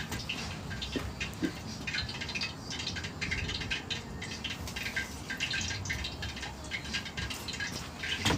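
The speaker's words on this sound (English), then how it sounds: "Make sure to drain the water off." Water drains and drips off fresh raw chicken, a close, steady patter of trickling drops with faint rattles, heard without talk.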